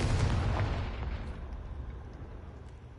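A Confringo blasting spell detonates in Hogwarts Legacy, a loud booming burst that starts at full force and then rumbles away into a fading, low roar over a few seconds.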